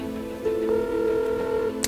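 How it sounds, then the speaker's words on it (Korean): A phone rings out after a call is placed, a steady electronic ringback tone lasting over a second with faint button ticks, ending in a small click, heard close and alone. "대표님과 바로 현피 신청을 하기 위해서 통화를 한번 해보도록 하겠습니다"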